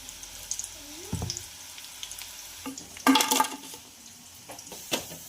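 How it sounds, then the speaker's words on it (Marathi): Chilli bhaji fritters fry in hot oil with patchy bursts of sizzling and bubbling, broken by clinks of a utensil against the pan and a louder splattering burst partway through. "अशाच पद्धतीने आपण सर्व मिरची भजी फ्राय करून घेऊया"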